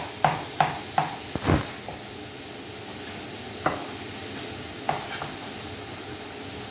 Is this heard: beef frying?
yes